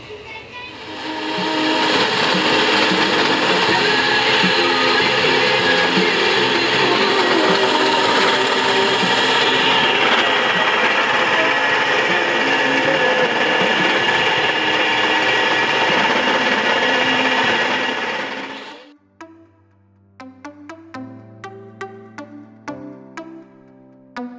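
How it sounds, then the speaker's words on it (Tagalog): A grinder mills freshly roasted, still-warm peanuts into peanut butter, a loud steady mechanical whir and grind running for about eighteen seconds before cutting out, followed by a few short clanks and knocks. "go na tayo sa gilingan ng mani"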